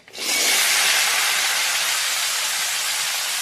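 Vegetables hit a hot pan and burst into a loud, steady sizzle that starts abruptly and holds evenly, fading only slightly toward the end.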